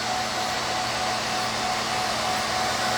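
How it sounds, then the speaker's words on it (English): A SheMax nail dust collector runs with a steady, loud, unbroken whooshing roar of suction and a faint motor hum, with no talking. "The SheMax has enough power that it's going to really suck down all of the dust particles."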